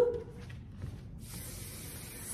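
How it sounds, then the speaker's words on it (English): Hairspray hisses in a steady spray from an aerosol can onto hair during recital prep, starting after a brief pause and continuing close and moderately loud to the end. "Spray her on down."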